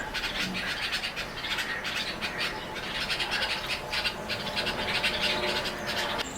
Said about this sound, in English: The parent bulbuls started calling aloud and became restless